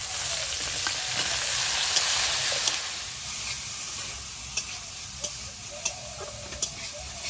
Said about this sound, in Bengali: আলুটা ভাজা ভাজা হয়েছে এবার বেগুনটা দিয়ে দেবো